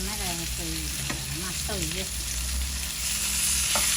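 Surma fish frying in a pan, a dense steady sizzle filling the space close up, with a few whistling tones over it and no talk.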